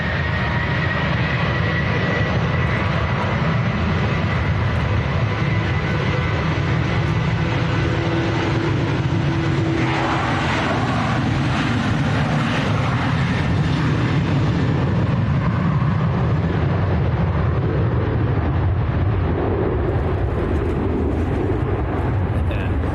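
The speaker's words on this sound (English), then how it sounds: "They sound really noisy to them 738s." Ryanair Boeing 737-800 jet at Manchester Airport, a loud continuous engine roar swelling in the middle and holding steady for over twenty seconds, with a voice talking over it at times.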